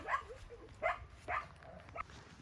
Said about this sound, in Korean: 왜 이렇게 그렇게 짖어 대나